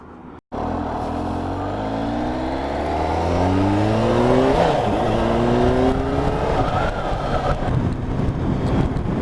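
A Kawasaki H2 SX SE Plus sport-touring motorcycle of about 200 horsepower pulls away and accelerates hard, its engine note climbing through several rising gear sweeps, loud and close, with steady wind and road roar building behind it.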